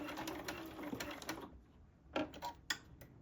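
Sewing machine stitching a binding edge on quilted sneakers, a fast close mechanical rattle that runs for about a second and a half, then gives way to a few separate clicks and short bursts.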